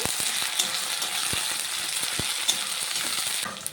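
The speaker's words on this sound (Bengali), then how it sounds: "পেঁয়াজটাকে একটু ভেজে নেব" Steady sizzling of onions frying in hot oil, with scattered clicks and scrapes of stirring throughout, fairly close.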